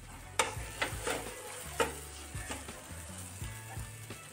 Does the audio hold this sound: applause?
no